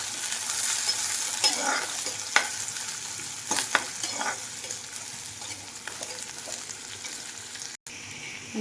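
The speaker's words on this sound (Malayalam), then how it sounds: "ഇതിലേതെങ്കിലും ഒന്ന് ചേർത്തിട്ട് ഒന്ന് വഴറ്റിയെടുക്കാം" Chilies, curry leaves, ginger, garlic and onion sauté in hot oil for a simple moru curry. A steady, close frying sizzle runs throughout, with occasional scrapes and taps of a spoon stirring the pan, and no one speaking.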